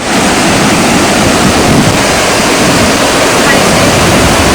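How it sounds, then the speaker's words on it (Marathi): Water released from Bhandardara dam rushes loudly and steadily below a bridge, a dense unbroken roar of churning flow that fills the whole stretch without pause. "भंडारदरा डॅमला पाणी सोडलेलं आहे आणि ह्या ब्रिज वरतून आपल्याला हा प्रोजेक्ट बघायला मिळतो"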